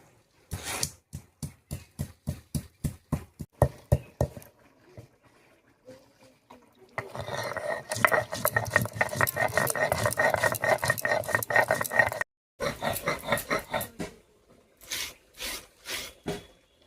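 Garam masala spices being ground for an egg, potato and olive curry: a run of sharp rhythmic taps, then several seconds of dense continuous scraping, followed by shorter rough bursts, close and fairly loud, with no talking.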